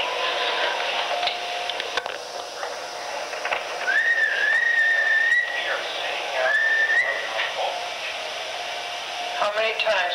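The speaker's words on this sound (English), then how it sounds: "How many times have you heard these Daniel Welch, James Welch, and Roberta Welch whistles" Whistles heard as thin sustained tones rising and wavering over a constant noisy background, appearing in a couple of brief bursts mid-recording.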